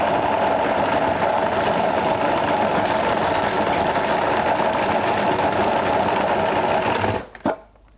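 A food processor whirs steadily as it chops a game pâté mixture finer, its loud, even motor hum running for about seven seconds before cutting off abruptly.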